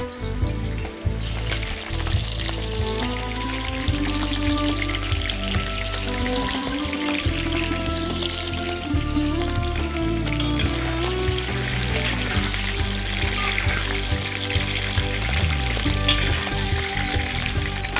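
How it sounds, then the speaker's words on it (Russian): Beef chunks from the neck sizzle and crackle loudly in a hot pan, a dense continuous frying hiss with occasional stirring scrapes. "Мясо надо довольно глубоко обжарить."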